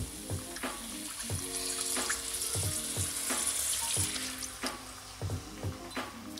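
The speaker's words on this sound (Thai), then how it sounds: "แล้วเราก็จะเอาที่เหลือเนี่ยไปใส่น้ำเติมน้ำนิดหน่อย" Water is poured into a wok of home-style stir-fried shellfish with chili paste, making a faint, steady splashing hiss with light rhythmic clatters throughout.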